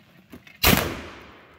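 A muzzle-loading rifle fires one sharp, loud shot at an outdoor shooting range. After a short faint lead-in the report hits hard and rings off in a long, decaying boom.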